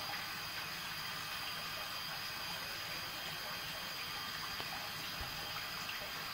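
A water jet quenches the end of a hot steel specimen in a Jominy end quench testing machine, producing a faint, steady hiss of running water that continues unbroken.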